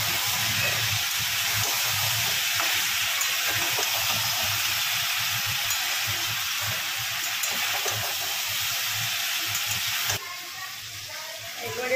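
Masala for a fish curry sautéing in a pan, a steady close sizzling hiss with faint stirring scrapes throughout, easing slightly near the end.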